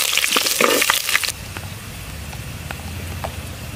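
Curry leaves and dried red chillies crackle and spit in hot oil for a traditional village fish curry, a loud burst of spattering for the first second before settling into a steady, softer sizzle with occasional pops.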